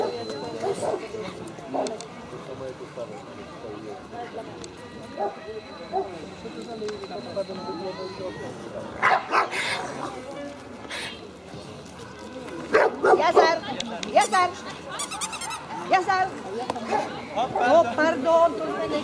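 Dogs bark and yip now and then at a dog show, moderately near, under an announcer calling out placings and catalogue numbers amid crowd chatter.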